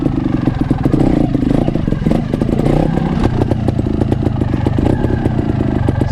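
A 2019 factory Sherco trials motorcycle climbing over rocks, its engine loud and near, revving in bursts with a choppy, uneven throttle as it works up the ledges.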